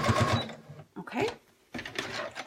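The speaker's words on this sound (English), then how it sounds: "Just sew that seam in place and make sure you're measuring off the top of your fabric" A sewing machine stitches an apron seam in fabric with a rapid whirring run, then a short pause and a second burst. A person talks over it.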